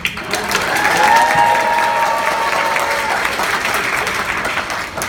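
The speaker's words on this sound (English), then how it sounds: "Clap really loudly." Loud, sustained applause and cheering from a convention panel audience at DragonCon 2017, a dense wash of clapping lasting the full stretch with a few faint whoops and tones over it.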